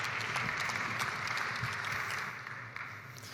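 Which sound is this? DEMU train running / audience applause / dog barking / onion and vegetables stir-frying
audience applause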